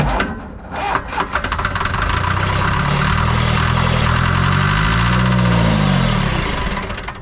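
An old diesel LULL telehandler, left sitting for about twenty years, cranks with a few uneven bursts and then catches, settling into a loud, steady running rumble that fades slightly at the end.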